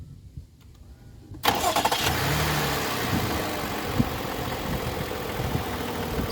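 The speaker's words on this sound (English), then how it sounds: "So that's the sound of the V6." After a quiet moment, the V6 engine of a 2021 Toyota Highlander XSE AWD cranks and fires abruptly, then settles into a steady, moderately loud idle with small fluctuations.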